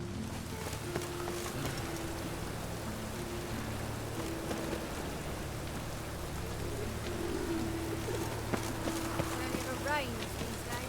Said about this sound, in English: It rains these days.